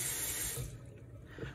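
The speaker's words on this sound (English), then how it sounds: "You're then going to rinse this part in cool water, removing all the soap." Cool tap water runs over a silicone wearable breast pump cup part while it is rinsed, a strong splashing gush at first that drops to a softer, steadier trickle within about a second and a half.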